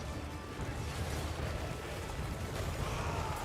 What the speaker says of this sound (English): The noxious explosions of bile raining down on the High Elves